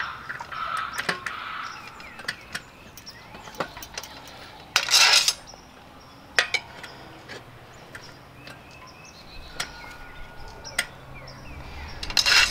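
Metal tire spoons come out of a holder on a Rabaconda tire changer, sharp clinks and rattles scattered over quiet, with a louder metallic clatter burst near the middle and another at the end.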